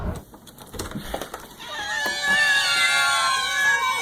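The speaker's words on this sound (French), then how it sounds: "Oh là là, le chat!" A cat lets out a long, drawn-out wavering meow that starts faint and swells loudly, heard over background chatter at first before the cry carries on alone.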